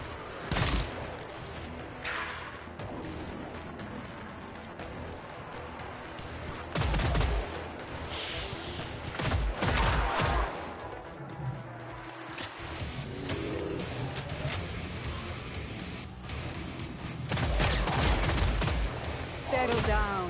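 Automated turrets in the video game Killing Floor 3 fire sustained bursts of gunfire with repeated sharp shots and crashes throughout, fairly quiet, with occasional talk over the top.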